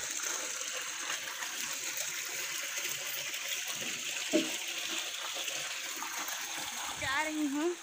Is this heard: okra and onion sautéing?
no